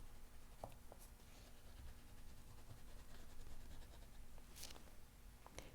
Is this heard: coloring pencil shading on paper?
yes